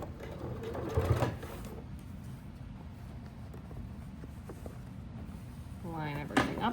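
A sewing machine stitches a messenger bag at close range, running steadily under a soft background with short bursts of a voice near the start and end.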